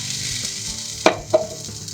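Red lentil crepe batter sizzling in a frying pan over gentle heat, a soft continuous frying hiss with two sharp clicks of the utensil against the pan near the middle, no voices.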